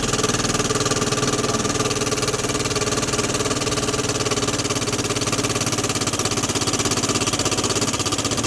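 A Vespa LX150 scooter engine idles close by with a steady, loud, even putter and hum that holds unchanged from start to finish.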